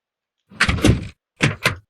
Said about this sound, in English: So we put that code in and we unlock the door.